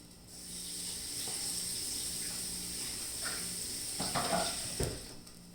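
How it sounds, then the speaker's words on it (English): Eggs cook on a heated griddle with a soft, steady sizzle held at low volume, joined by a few faint clicks and light handling sounds toward the end. "let the eggs heat up with the griddle"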